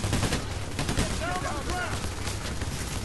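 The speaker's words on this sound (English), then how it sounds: "I'm shooting from the hip right now." Rapid gunfire from hip-fire shooting in Payday: The Heist, a dense continuous burst of shots mixed with game noise and a voice talking over it.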